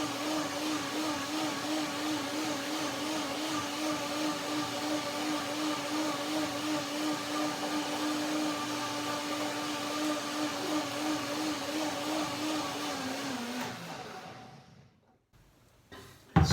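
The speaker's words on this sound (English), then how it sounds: "Macadamias are firm, so they need a little bit longer blending" A blender blending macadamia nuts runs steadily at high speed, loud and continuous, with a slightly wavering pitch, then cuts off abruptly near the end.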